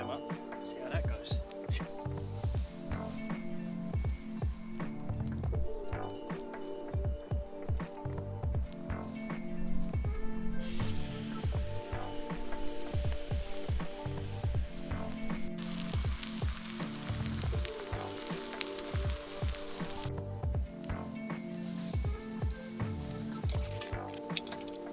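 Lamb leg steaks frying in a pan at a woodland campsite, a steady sizzle running throughout with clinks of utensils and a voice talking over it.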